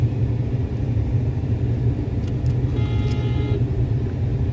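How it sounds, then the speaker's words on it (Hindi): Steady road traffic on a busy stretch near a mall in Bulandshahr, India, a constant low rumble of passing cars with a brief faint horn-like tone partway through, no talking. "थोड़ा सा ट्रैफिक है इसलिए।"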